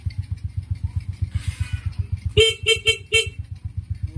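Horn on a neglected Honda Wave Gilas motorcycle sounds four short, loud honks close by over a steady idling engine putter.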